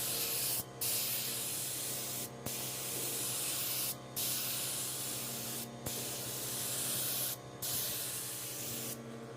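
A spray gun applying clear coat to a furniture piece hisses loudly in long, even passes, cutting off briefly about every second and a half, close by with a low hum underneath.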